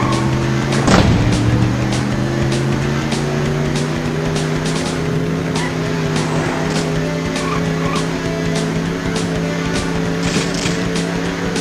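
Classic American hot rods cruise in the arcade driving game Cruising USA. A loud, steady engine drone with layered motor hum runs throughout, and a sharp tire skid comes near the start.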